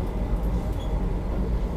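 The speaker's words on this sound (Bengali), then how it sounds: "আমাদের ট্রেন ঢুকছে বালাসর স্টেশনে" A Vande Bharat express train rolling into Balasore station, a low steady rumble of wheels and carriages heard from inside, fairly loud and continuous without speech.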